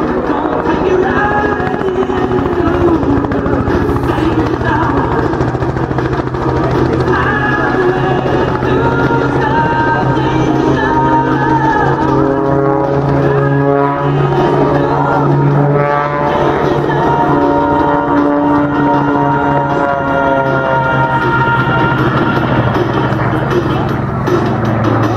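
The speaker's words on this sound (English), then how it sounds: "Lyndon flying this aircraft." At the 2021 Barossa Air Show, a Silver Sharks display aircraft flies overhead with a loud, sustained engine drone that shifts in pitch as it passes, while an announcer talks continuously over it.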